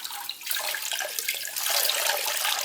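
Water splashes and trickles as a soaked car wash mitt is wrung out over a bucket of rinseless wash solution, a continuous close, fairly loud pouring and dripping.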